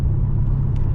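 Steady low exhaust drone fills the cabin of a 2020 Dodge Challenger Scat Pack Widebody, a constant deep hum with a faint hiss above it, loud and even throughout.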